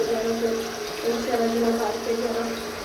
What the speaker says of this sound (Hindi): हम इधर बाल्टी में जो है ना पानी वगैरह भरेंगे